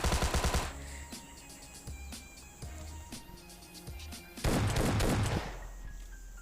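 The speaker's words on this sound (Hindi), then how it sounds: "तभी इनके 3 बंदे ऊपर की साइड से हमें फायर देने लगते हैं" Rapid gunfire in the battle royale game PUBG Lite, with a fast burst at the start, scattered single shots, then another dense volley, all loud and close.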